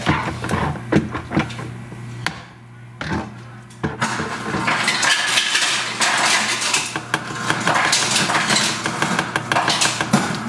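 Metal clinks and scraping rattle against a blender jar holding tomato sauce, followed by a sustained whirring grind of the blender blade spinning and clattering inside.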